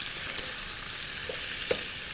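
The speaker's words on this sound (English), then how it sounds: "And you're just frying that just to brown it off." Steady, loud sizzling of beef browning in hot dripping, with a constant crackling hiss and an occasional soft pop.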